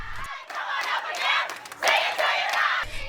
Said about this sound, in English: Current members dressed in themed outfits and cheered while they waited to welcome their new sisters.